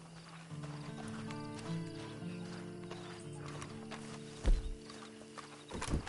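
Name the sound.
horse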